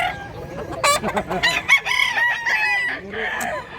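Roosters at a Cebu chicken market crow repeatedly and overlap, with clucking hens mixed in, close and loud in a busy poultry setting.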